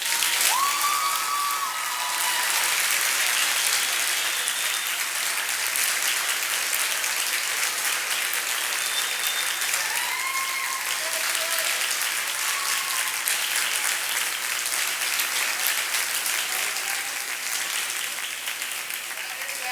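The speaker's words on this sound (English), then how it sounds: "give them a really big round of applause." Sustained, dense applause from a large audience of students honoring faculty at a leadership course presentation event, steady and full for the whole stretch with faint voices scattered underneath.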